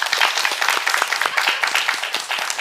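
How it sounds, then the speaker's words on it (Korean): A church congregation claps together during a sermon, a lively, dense round of applause that stays strong from start to finish. "박수 한번 해주시죠."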